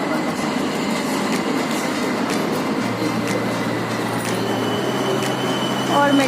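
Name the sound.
Port Louis metro train arriving at station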